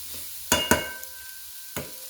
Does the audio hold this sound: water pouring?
no